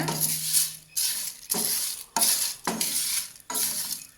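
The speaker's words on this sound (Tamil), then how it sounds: "சின்ன சீரகம் அண்ட் பெரிய சீரகம் இது ரெண்டையும் வந்து கடைசியாக போட்டு ஒரு 1 மினிட் வறுத்துட்டு" Cumin and fennel seeds are dry-roasted and stirred in a pan, giving repeated scraping, rattling strokes against the metal, about six sweeps in a rough rhythm separated by brief quieter gaps.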